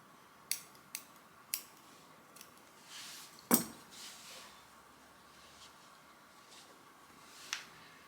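Scissors snipping excess crochet yarn: a few quiet, close, sharp clicks spaced apart, with one louder snip near the middle, over a faint background and no talking.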